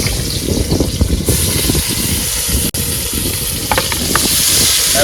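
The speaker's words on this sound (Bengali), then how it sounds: "এখন আমরা কড়াইতে পেঁয়াজ দিয়ে দেবো" Loud, continuous sizzling and crackling of onions frying in a kadai, with a few sharp pops and a brief scrape partway through.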